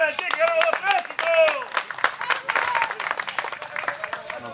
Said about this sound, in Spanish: Un aplauso para Lara